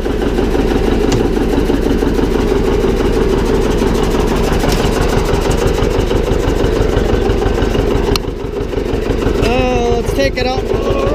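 A John Deere 720 diesel tractor idles loudly and close by with a steady, low, rapid chugging pulse throughout; a voice is briefly heard near the end over the engine.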